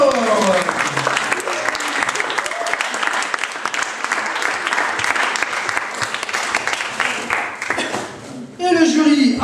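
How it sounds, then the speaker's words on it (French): An audience at a slam poetry tournament round gives sustained, loud applause for a performer, dense clapping that thins near the end before a voice speaks over it. "C'était Mirage, on peut l'applaudir encore."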